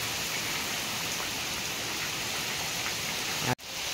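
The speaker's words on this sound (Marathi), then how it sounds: "मित्रांनो बघा पावसाला सुरुवात झाली मस्त" Rain starting to fall by a creek patters and hisses on surfaces close by, an even, continuous wash of drops, broken by a brief dropout near the end.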